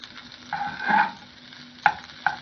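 Butter melts in a hot pan for a home-style rajma dish, a close sizzle broken by a few scraping stirs, with no talk.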